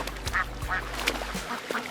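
Egg-laying ducks quack repeatedly in short nasal bursts as a flock is herded through a pond, calls overlapping at close range over low background rumble.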